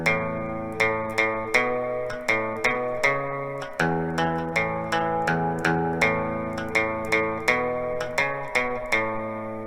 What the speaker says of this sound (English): you can mute certain notes so it would sound something like this